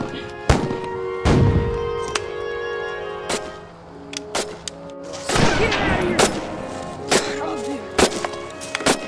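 Rifle and gun fire ring out in a World War II shooter game set during Operation Husky, with sharp shots scattered irregularly, some near and loud, others more distant, amid battle noise and occasional voices.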